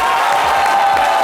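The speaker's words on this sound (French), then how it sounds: "Madame, monsieur, ça s'applaudit, s'il vous plaît." Audience applause and cheering fill a short moment after a Kroubi dance performance by young women from Zanzan, a dense steady wash of clapping and crowd noise with no speech.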